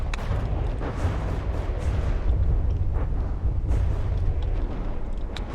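Turrets fire in From The Depths, a steady rumbling barrage of deep booms and scattered sharp pops running continuously, with no distinct pauses between rounds.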